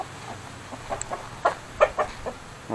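A few close, sharp clucks from roosters in Vietnam come in short irregular bursts against quiet background noise.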